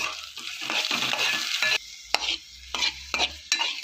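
A spoon scrapes and turns a potato fry in a sizzling pan, giving a busy stretch of stirring and then short separate scrapes with quiet gaps between them.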